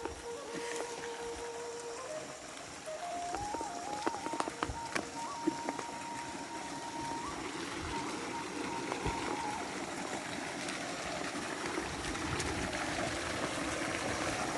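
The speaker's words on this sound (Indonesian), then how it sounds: "Ini dia pancuran perempuan." Water pouring steadily from a public bathing spout in a village in Simalungun, a continuous rushing splash heard up close, with faint tonal sounds and occasional knocks over the flow.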